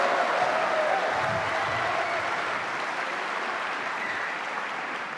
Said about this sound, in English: A huge cheer for the re-entrance of Stuart Bingham.